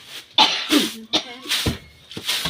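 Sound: coughing from rice dust while pounding rice

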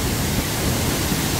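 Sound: Hongryong waterfall at Hongryongsa temple

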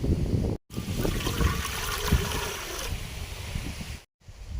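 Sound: water being poured into a pot for tea

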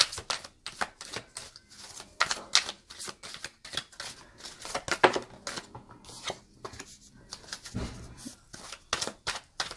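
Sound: tarot cards being shuffled and drawn

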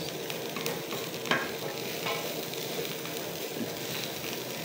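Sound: frying food sizzling in pan

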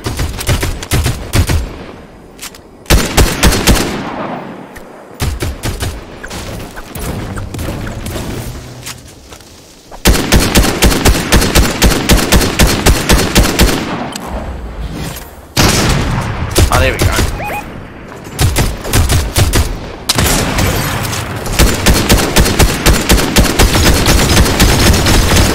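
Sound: gunfire from shooting a shark in a video game

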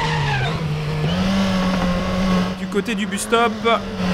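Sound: race car braking with tire squeal in RaceRoom video game

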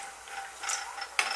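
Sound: turning down the gas stove knob

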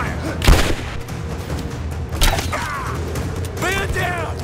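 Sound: gunfire in the video game Rise of the Tomb Raider

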